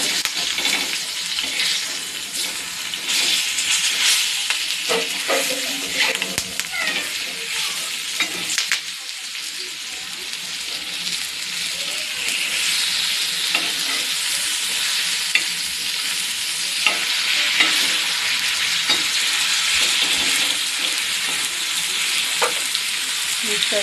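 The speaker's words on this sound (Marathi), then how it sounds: "असे फ्राय झालेले आहे एका बाजूने, तर दुसऱ्या बाजूने आपण फ्राय करून घेणार आहे." Bangda mackerel frying with curry leaves in a pan, turned to cook the second side: a loud, continuous close-up sizzle with crackles and spatter, a few scraping stirs and a brief dip partway through.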